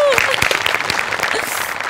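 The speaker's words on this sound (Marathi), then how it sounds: "त्याच्यासाठी जोरदार टाळ्या." Studio audience applauding on a Marathi comedy show, a short burst of clapping overlapping a host's voice.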